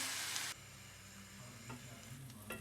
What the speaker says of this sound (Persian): اونا رو یه مقداری تفت میدم با مقدار خیلی کمی روغن تا به رنگ طلایی در بیاد